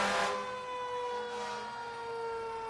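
Emergency vehicles in a Christmas parade sound a steady, wailing siren close by, holding a long, even tone after a brief burst of noise at the start.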